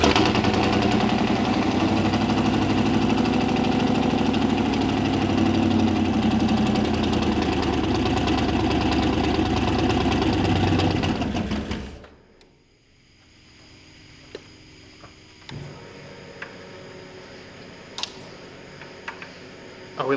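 A turbocharged V8 police car with custom exhaust, EFI and intercooler idles with a loud, steady rumble for about twelve seconds, then cuts out, leaving quiet shop noise and a few faint clicks.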